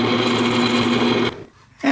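Power drill boring a 5/16 inch hole through a wooden dowel jig: a steady, loud whining motor hum for over a second, then cutting off abruptly, a brief near-silent pause, and the drill spinning up again.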